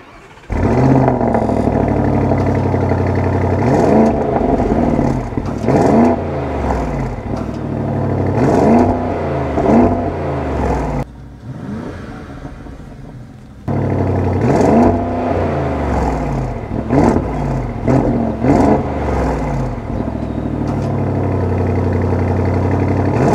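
A V8 biturbo car engine revs hard again and again through its exhaust, each loud, close throttle blip rising and falling, with a short near-idle lull midway before the revving resumes.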